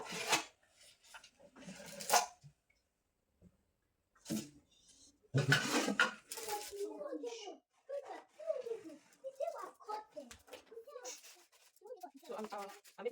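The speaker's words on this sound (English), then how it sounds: "So this is how I align my cake pan." Baking paper is rubbed and pressed into the bottom of a 10-inch cake pan for a vanilla cake, making short scratchy rustles in scattered bursts between stretches of close talking.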